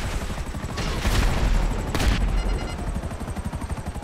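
Missile launched point-blank at a target in GTA Online, heard as two loud bursts of explosive noise over a dense barrage of rumbling gunfire and engine noise, with no talking.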